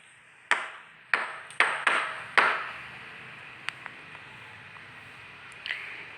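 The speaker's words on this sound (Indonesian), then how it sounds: "bunyi yang dihasilkan dari mengetukkan bagian bawah ember" The bottom of a bucket is struck with a series of sharp, ringing taps: five fairly quick knocks, then a few fainter, scattered ones after a pause, heard close up against a quiet background.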